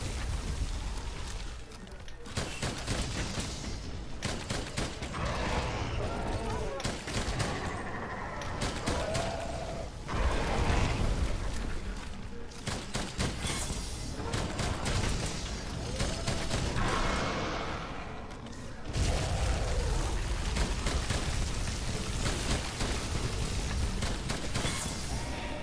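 Rapid bursts of light bowgun fire crackle in dense, repeated volleys in Monster Hunter World: Iceborne against Blackveil Vaal Hazak, loud and continuous with brief pauses.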